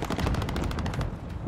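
Rapid gunfire in the Call of Duty Black Ops Cold War video game, a dense burst of repeated shots that stays loud for about a second before thinning out, with no talk over it.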